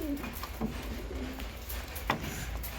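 Pigeons in a breeding loft give soft, low coos, a few short calls near at hand over a quiet background with faint scuffling.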